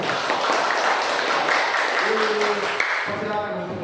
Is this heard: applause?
yes